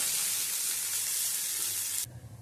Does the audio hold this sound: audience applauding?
no